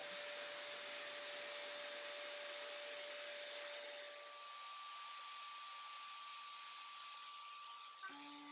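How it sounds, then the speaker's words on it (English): A Flowbee vacuum haircutting system runs with a steady, loud vacuum motor whining continuously, its pitch shifting partway through, then a brief clatter and a lower hum near the end. "So here goes the vacuum."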